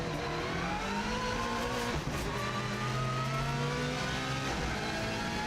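A Subaru WRX STI on the Isle of Man TT road course roars at speed, then blips and drops through gears under hard braking in a quick run of downshift barks, loud and close inside the car.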